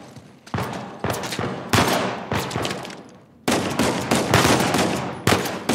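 Bursts of gunfire in Uncharted 4 crack out in loud, close volleys separated by brief pauses, with rapid automatic shots stacking into dense clusters and no talk over them.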